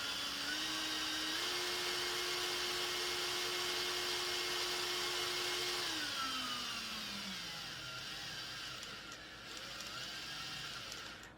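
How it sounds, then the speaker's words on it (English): An electric drill whirs up to speed as a steady motor whine that holds, then drops in pitch as it slows, quiet and alone for several seconds. "So I'll spin the drill up"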